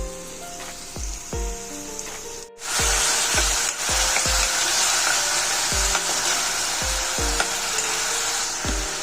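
Ridge gourd and potato curry sizzles loudly in hot oil with garlic, onion and chilli, a steady frying hiss broken by repeated low knocks of a spoon stirring the pan.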